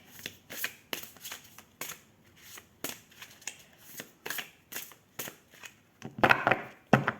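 Large oracle cards are handled and shuffled close up: a run of crisp, rhythmic riffling flicks, then denser crackling bursts toward the end.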